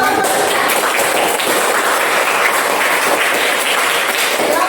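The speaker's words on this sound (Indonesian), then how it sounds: "kita berikan tepuk tangan dulu." Dense, steady applause from a class group, many hands clapping at once, loud and continuous with no talking.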